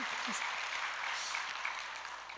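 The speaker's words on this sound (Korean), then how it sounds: "여러분들이 아버지께 박수를 드렸는데요" Church congregation applauding during a worship service: steady, dense clapping from many hands fills the whole stretch at an even level, close and unbroken.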